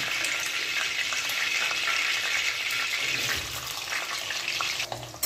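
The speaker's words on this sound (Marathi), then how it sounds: "बघा, कांदा फ्राय करायला टाकलेला आहे मी आता." Onion sizzles and crackles steadily in a pan while pav bhaji is being made, a dense, close frying hiss with faint scrapes, no voices.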